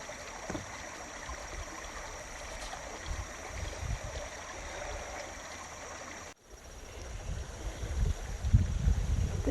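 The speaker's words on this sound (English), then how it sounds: "This is the creek we're using to filter water" Steady rushing water of Richland Creek, Arkansas fills the scene with constant wash, briefly cutting out and then returning louder and rougher.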